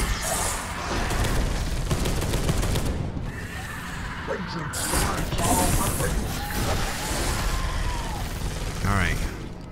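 Gunfire in the sci-fi shooter Space Hulk: Deathwing: dense, continuous rattling bursts and mechanical clatter fill the whole stretch, loud and close, with a voice speaking over the shooting.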